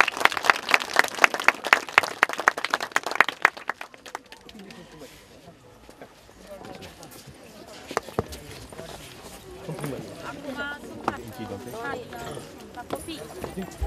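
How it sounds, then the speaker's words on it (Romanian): Applause at a Romanian National Day celebration in the commune of Mahala breaks out briskly for the first few seconds, then fades to scattered claps, crowd murmur and people talking. "Aplauze,"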